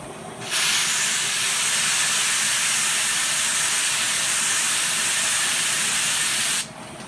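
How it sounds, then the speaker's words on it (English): A can of compressed air sprays in one continuous loud, close hiss lasting about six seconds, starting and stopping abruptly, with no talk over it. "Got one of these cans of uh, compressed air here."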